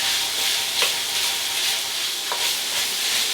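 Sausage sizzles steadily in a hot pan with a constant hiss, and two brief scraping stirs cut in, close and fairly loud, with no one speaking.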